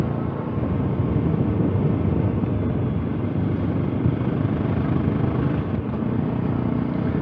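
A Voge Rally 300 single-cylinder motorcycle rides through town, its engine a steady close rumbling drone blended with wind noise, unbroken throughout and with no talk.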